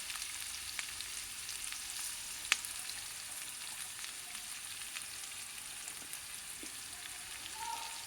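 Potatoes frying in hot oil in a pan, a steady soft sizzle with occasional pops and crackles, close and alone.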